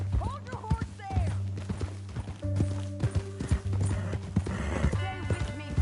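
Horse hooves clip-clop at a ranch under a dense mix of speech and background activity, the steady hoofbeats partly masked by people talking.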